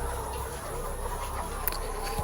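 Caged layer hens on a poultry farm cluck softly and steadily, a faint, continuous flock murmur with no one speaking.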